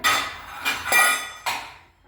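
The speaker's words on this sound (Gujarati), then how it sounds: "પેલા વાસણ અહીંથી ચડાવી લઉં તો રસોઈ થાય ને." Metal cooking pots being lifted down and handled in a home kitchen give three sharp clanks and clinks at a steady spacing, each ringing briefly before fading, close by with no talking.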